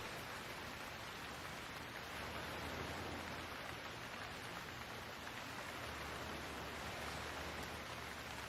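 Steady rain falls outside a diner, a soft, continuous hiss with no distinct drops standing out, fairly faint and even throughout with no voices.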